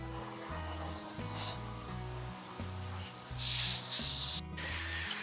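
An airbrush spraying lacquer-based paint onto a taxidermy fawn: a soft, continuous hiss that swells in a few short bursts, with a louder blast near the end, over a low pulsing compressor drone.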